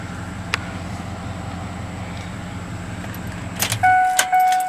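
A Ford F-150 with a 5.4L 3V Triton V8 idles with a steady low engine drone, then a short clatter and jangle near the end with a few sharp tonal beeps as it cuts off.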